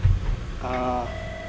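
An electronic telephone rings during a university lecture on supersonic flight: a short harmonic warbling burst followed by a steadier sustained tone, heard after a moment of speech.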